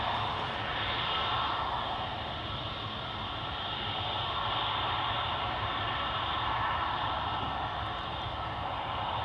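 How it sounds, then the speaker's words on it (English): A business jet lands on runway 22 at Amsterdam Schiphol Airport, heard as a steady, broad engine roar and rushing noise at moderate distance, unchanging for about nine seconds, with no voices. "BizJet landing on runway 22"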